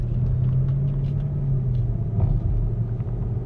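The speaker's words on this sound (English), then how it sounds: "Right now the car is steering down this road." A 2007 Mercedes-Benz GL450 SUV driving down a road, heard as a steady, close low rumble of engine and road noise, continuous and without speech.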